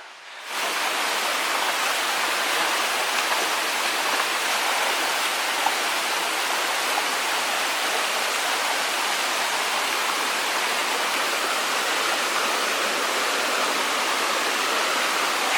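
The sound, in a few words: mountain stream of flowing water on Brahmagiri trek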